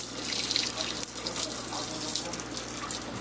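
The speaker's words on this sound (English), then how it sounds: "Draining the water out." Water drains from a pot of boiled pork chops into a kitchen sink in a continuous close splashing rush.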